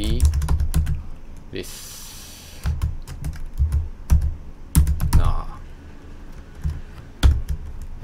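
Typing Java code on a computer keyboard: bursts of quick, close key clicks with uneven rhythm, heard under a man's explanatory speech.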